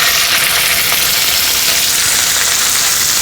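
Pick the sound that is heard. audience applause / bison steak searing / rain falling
bison steak searing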